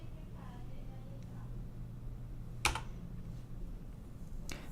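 Sparse, faint clicks of a computer keyboard as a command is typed into a FreeBSD terminal, with two sharper keystrokes standing out over a low background hum.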